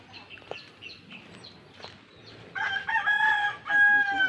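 A rooster crows from about midway through, a long drawn-out cock-a-doodle-doo near the house on a small farm where chickens, ducks and a dog are kept. Faint rustling and distant sounds precede it.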